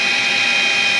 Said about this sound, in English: Let's get a drill bit and drill the fricker.